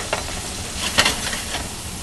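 Ingredients land in a hot frying pan with onions, setting off a lively sizzle with a few sharp stirring scrapes, close and steady over about two seconds, no voices.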